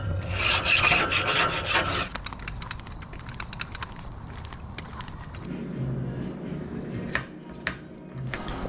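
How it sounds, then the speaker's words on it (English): A barbecue grill is scrubbed clean after grilling chicken, giving close, loud, harsh rasping strokes at first, then a steady run of quicker scraping and rubbing. "after using the grill, you have to clean it by yourself"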